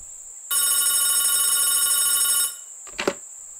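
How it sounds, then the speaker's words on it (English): A telephone bell rings once in a long, steady burst of about two seconds, loud and alone, followed by a short clatter as the call comes in from the Kiev electrical network at the Chernobyl nuclear plant. "a phone call came from the Kiev electrical network"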